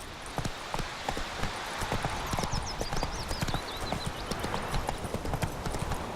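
Roach the horse gallops in The Witcher 3: Wild Hunt, rapid, steady hoofbeats thudding in a driving rhythm, with a bird's chirping trill faintly above them partway through.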